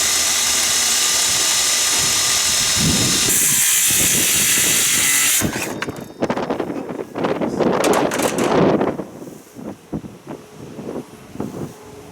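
Heavy wind buffeting the microphone outdoors during sawing, a loud roar at first, then gusty rumbling mixed with scattered clattering and scraping noises.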